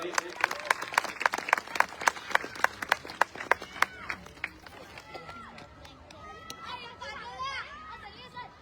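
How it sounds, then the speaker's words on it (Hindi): Rhythmic unison clapping from a gathered congregation welcoming someone speaker at a Hindu satsang, the claps strong and steady for about four seconds before fading into chatter and children's voices. "माता जी का जोरदार तालियों के साथ स्वागत करेंगे।"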